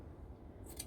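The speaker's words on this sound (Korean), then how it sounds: "이렇게 해서 가위밥을 완전히 줬다" Scissors make a single crisp snip as they cut a notch into the seam allowance of linen fabric while sewing trousers, quiet and close.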